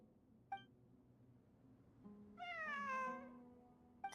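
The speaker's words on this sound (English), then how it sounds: "It really is a cat." A cat in Genshin Impact meows during live gameplay: one short chirp, then a longer, clear, fairly loud meow over low background game sound, with a brief final chirp.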